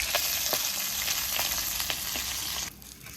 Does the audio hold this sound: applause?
no